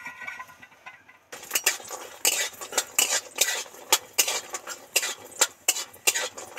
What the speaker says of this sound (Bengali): কড়াতে একটু তেল দিয়ে দিচ্ছি, এই হলুদ বড়ি একটু ভেজে নেব।